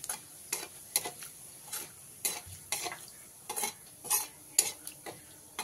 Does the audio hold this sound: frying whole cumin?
yes